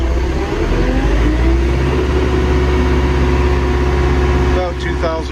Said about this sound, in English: Start the PTO. Now we ramp up our RPMs.